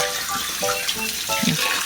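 Water runs and splashes while a pig pen is being washed during the farrowing period, a close, continuous gurgling flow with a few brighter spatters and no talk.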